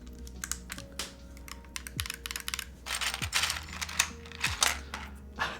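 Keys on a custom Kyubi mechanical keyboard fitted with tactile switches clack in quick bursts and short runs, close and fairly loud, with a few brief pauses between strokes.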